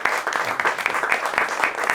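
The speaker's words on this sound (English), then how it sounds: "If you want to clap, you can do that now." Audience applause fills the room at the end of a standup comedy show, a dense steady wash of clapping from a crowd.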